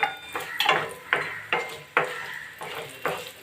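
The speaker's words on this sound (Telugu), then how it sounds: "ఇప్పుడు క్యారెట్ ముక్కలు వేస్తున్నానండి ఆయిల్లోను కొంచెం క్యారెట్ ముక్కలు వేపేసుకుంటానండి" Carrot pieces fry in oil in a pan while being stirred, giving repeated scraping, clattering strokes in an uneven rhythm over a faint sizzle, close up with no talking.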